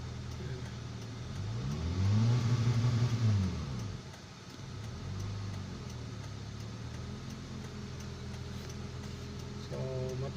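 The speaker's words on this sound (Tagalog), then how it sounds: "Pakinggan nyo lang guys yung makina dahil yung RPM nya sira yan" A car engine with a faulty RPM gauge runs steadily, surging into a louder rev around two to four seconds before settling back to a lower idle, with the faint suggestion of voices in the background.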